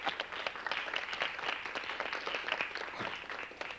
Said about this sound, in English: you're applauding